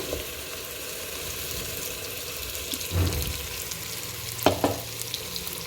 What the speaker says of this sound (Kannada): ಸ್ವಲ್ಪ ಮಾಗಿದ ನಂತರ ಟೊಮೊಟೊವನ್ನು ಹಾಕಿಕೊಳ್ಳಬೇಕು